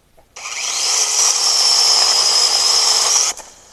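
A Troozy 6-inch electric chainsaw cuts through a tree limb, a high, steady whining buzz that starts abruptly, holds evenly for about three seconds and then cuts off, loud and close.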